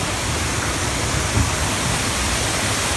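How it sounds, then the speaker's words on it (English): A waterfall at the Volcano Bay water park gives a steady, dense rush of falling water, loud and unbroken throughout. "Let's go to the waterfall."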